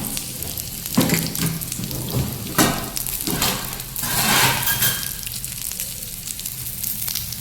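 Spicy chillies, garlic and peanuts roasting in oil on a griddle, a steady close sizzle with louder hissing bursts as the food is stirred and turned.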